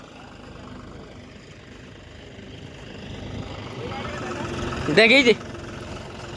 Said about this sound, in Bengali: মনি চালাচ্ছে ট্র্যাক্টর।